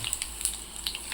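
Broad beans dropped into hot oil with curry leaves and cumin, a close crackling sizzle with scattered sharp pops and spits over a steady frying hiss, no talking.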